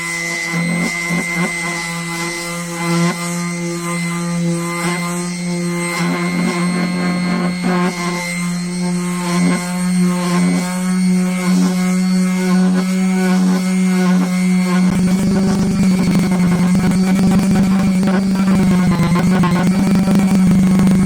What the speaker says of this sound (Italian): Iniziamo con una 180 per andargli a togliere la giunzione tra questi due pezzi di vetroresina di un codone di una moto.